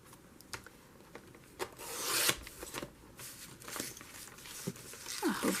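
Scissors trim craft material made from trash in a series of soft, quiet snips and rasping cuts, spaced irregularly and heard up close without talk.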